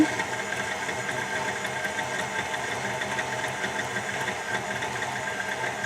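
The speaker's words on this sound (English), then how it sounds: "you're gonna whisk it on low" Electric mixer whisking on low speed for cupcake batter, a steady, fairly quiet motor whir with no break, heard alone.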